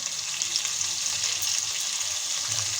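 Cut potato pieces frying in hot oil in a wok, a dense steady sizzle with faint crackles and small stirring noises, close and continuous with no talking.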